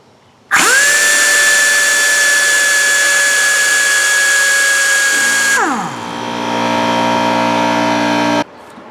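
An Aircat 1600-TH-A pneumatic impact wrench running at full reverse, a loud steady high-pitched whine that spins up abruptly, holds, then sags in pitch as air pressure drops from a 20-gallon tank before cutting off.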